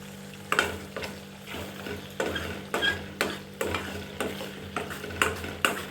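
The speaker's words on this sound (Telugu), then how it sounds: "ఈలోగా మనం స్టవ్పై ఉడుకుతున్న చింతపండు మిశ్రమం చూస్తున్నారు కదా" Tamarind mixture cooks in oil in a pan on the stove for a garlic drumstick chutney, sizzling steadily while a spoon stirs and scrapes in a slow, repeated rhythm, close and clear.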